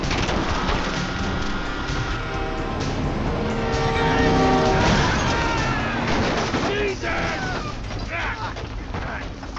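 A train in the video game GTA V rumbles and clanks through a loud chase scene, mixed with gunfire-like bangs and shouting voices.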